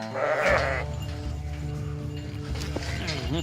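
Sheep and goats grazing outdoors on open land, with a close, loud bleat early on and further murmuring animal calls over a steady low rumble.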